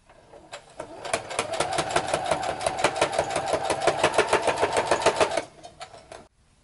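A sewing machine stitches fabric in a steady rapid run of needle strokes for about four seconds, starting and stopping cleanly, close and fairly loud with no talk.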